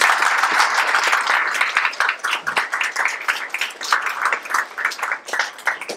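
Audience applause after a student stage performance of the Hindi play Bakari, a dense, steady wash of many hands clapping that runs throughout, loud and close, with small swells and dips.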